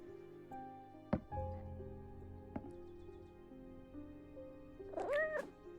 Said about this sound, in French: Le chat, il fait tomber les trucs.